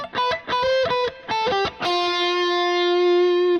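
An electric guitar plays a lead line with light drive: a quick run of clipped, articulate notes, then one note rings out with long, even sustain.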